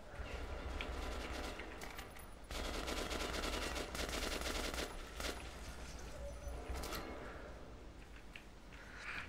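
Sustained automatic gunfire in the post-apocalyptic shooter Metro 2033, rapid bursts of machine-gun fire rattling almost continuously with brief pauses, loud and close, with no speech.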